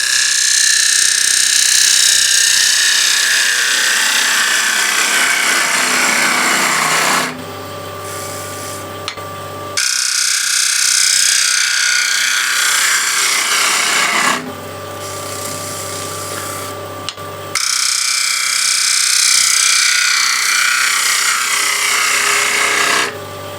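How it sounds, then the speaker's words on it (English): A ball gouge hollowing a wooden bowl on a lathe, cutting with a shear angle toward the rim, gives a loud, steady rasping scrape in three long passes, each broken by a short lull of quieter motor hum. "ball gouge is much efficient way of hollowing, safer as well"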